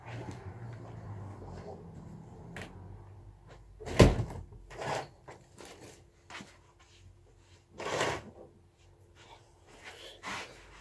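An interior door swings shut at home, with a sharp thump near the middle over soft room noise, followed by a few lighter knocks and rustles.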